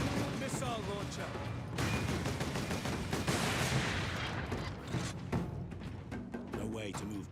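Gunfire in the video game Space Marine, dense bursts of rapid shots and heavy explosive thuds rolling continuously for several seconds, loud and close, with a voice speaking at times under the din.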